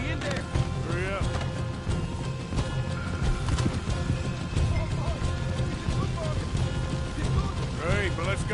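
Hooves clip-clop in a quick, steady rhythm over a busy game soundscape, with occasional horse whinnies and voices talking over the top.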